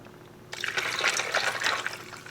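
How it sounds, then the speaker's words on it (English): Hot rose hibiscus tea, sweetened with honey, is poured over ice. A short silence gives way to a splashing, gurgling stream of liquid that runs steadily and close by. "then I'll pour it over ice"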